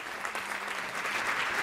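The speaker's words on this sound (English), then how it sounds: "And big bunch of applause." Conference audience applauding at a climate change assembly in Bonn, a steady dense wash of clapping from a crowd, sustained evenly throughout.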